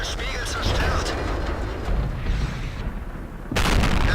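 High-explosive tank shells from a Black Prince bursting in World of Tanks, heavy booming blasts under a continuous rumble of battle, with a fresh loud impact near the end.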